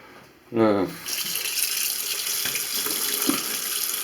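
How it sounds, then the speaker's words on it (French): Water runs steadily from a tap into a bathroom washbasin and drains freely through the freshly unclogged plug hole, a close continuous rushing flow that starts with a brief splash and carries on alone. "vous mettez un peu d'eau pour vider l'eau là-dedans, afin de continuer à drainer un peu"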